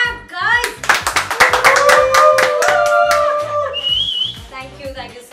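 Rapid close-up hand clapping mixed with whistling and shrill whoops, a few people cheering loudly together for several seconds.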